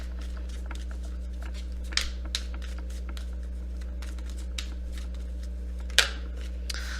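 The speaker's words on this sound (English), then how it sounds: "Let me just shuffle real fast." Soft rapid riffling and flicking of tarot cards being shuffled, with a couple of sharper snaps, over a steady low electrical hum.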